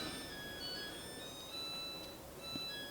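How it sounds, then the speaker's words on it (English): A faint electronic melody of thin, high tones plays softly in the background over a steady low hum, a clothes dryer chiming its cycle-end tune. "That's the dryer. If you guys hear that jingle in the background."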